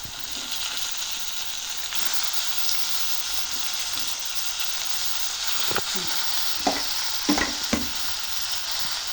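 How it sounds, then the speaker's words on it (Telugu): Tomato pieces fry in a dried shrimp curry with a steady, fairly soft sizzle and bubbling, joined later by a few scraping stirs and clinks against the pan, with no speech. "ఇప్పుడు టమాటా ముక్కలు వేసుకోవాలండి కొంచెం కొంచెంగా టమాటా ముక్కలని"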